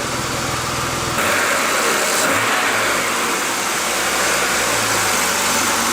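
A washed car's engine runs steadily at close range, with water left in the exhaust sputtering and gurgling out in a rough, uneven burble over the continuous engine drone.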